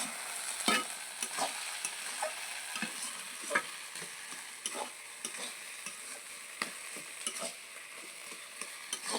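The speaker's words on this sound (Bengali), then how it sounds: "ভালো করে একটু ঘেঁটে নেব" Malabar spinach is stirred and mashed in a pan. Soft, irregular spatula scrapes and clicks sound over a quiet, steady background sizzle, fairly faint and with no talking.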